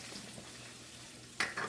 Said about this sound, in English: Then we put saute our garlic and onions.